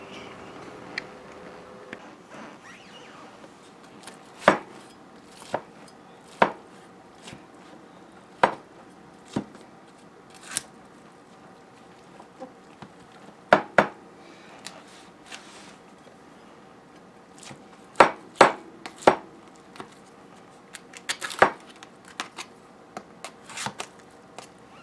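A knife slices into a baked breakfast strata primavera casserole, giving a scattered series of soft, close clicks and taps against the dish over a quiet background with no speech.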